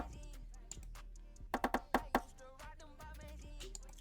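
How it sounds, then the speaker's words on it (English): Rimshot samples in a plugg beat made in FL Studio, a quick cluster of five crisp, woody clicks in the middle of the loop, sitting over the ongoing melody and bass. "added some rims."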